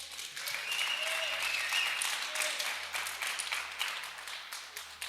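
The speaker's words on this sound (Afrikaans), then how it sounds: "gee die Here nog 'n hande klap." A church congregation at a midweek service claps together in a sustained round of applause, moderately distant and fairly soft, with a faint tonal hum underneath.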